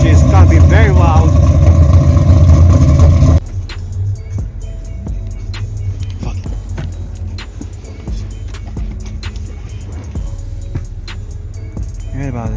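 A 4G63T 2.0-liter single-turbo four-cylinder, DOHC 16-valve, fires up loud and close at a car show, then settles into a rough, steady idle with faint background chatter.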